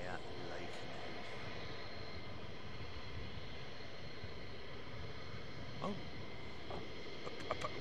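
Distant aircraft rumble from a plane taking off near RAF Lakenheath and passing over a house, a steady broad roar heard from indoors with faint voices and small knocks.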